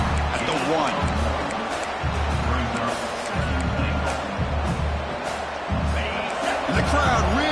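Football stadium crowd roaring as the defense tries for a goal-line stand, a sustained rumble of cheering beneath a commentator's voice.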